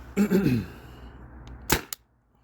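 A Tippmann TiPX paintball pistol on a remote HPA line fires a single sharp, loud shot over a chronograph, heard up close after a brief muffled rustle.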